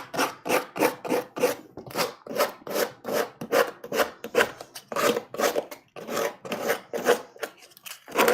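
Sandpaper of 120 grit rasps across a wood Halloween decoration in quick, rough back-and-forth strokes, about two per second, close and loud with no talking.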